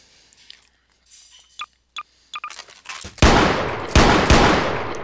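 Admin sniper rifle in Garry's Mod: a few small clicks and taps, then three loud, booming shots with long ringing tails spaced about half a second apart.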